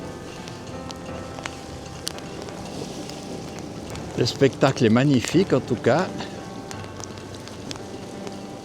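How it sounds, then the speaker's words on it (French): Wind and rain sweep across an outdoor spot above a mountain lake, a steady hiss and rush that runs throughout, with someone talking briefly partway through. "non seulement il y a du vent, mais maintenant il y a de la pluie"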